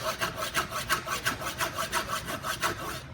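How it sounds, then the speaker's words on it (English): A knife blade sawing a gash into a hammer handle: rhythmic back-and-forth rasping strokes, roughly three per second, close and steady, with no talking. "I put another serious gash in that hammer"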